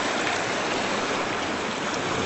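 A creek rushes steadily over its bed, a dense, even broadband wash of flowing water close by, unbroken and without voices.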